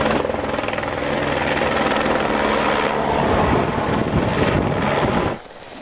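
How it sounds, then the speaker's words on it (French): A firefighting helicopter flying in gusty Mistral wind over the Garlaban hills near Aubagne, a loud rotor roar with wind buffeting that holds for about five seconds and then suddenly drops away. "Dernière rotation de l'hélico sous les rafales de Mistral afin de déposer la cargaison"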